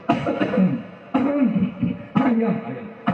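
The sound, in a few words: coughing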